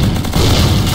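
Dense burst of gunfire in a shooting video game, loud, continuous rapid shots packed into under a second, close and alone with no voice over it.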